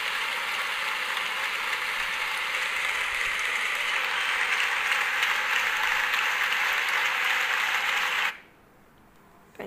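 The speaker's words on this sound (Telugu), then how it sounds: "ఇంక క్లాప్స్ కొట్టినందుకు" Clapping and cheering fill the Dynamons video game, a dense steady applause track lasting about eight seconds before cutting off abruptly into near silence.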